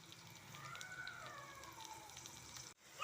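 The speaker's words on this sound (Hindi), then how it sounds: "भिंडी अच्छे से फ्राई हो गई है।" Okra (ladyfinger) frying in oil in a pan for masala bhindi, giving a steady, soft sizzle close by with no one speaking, ending in a brief cut.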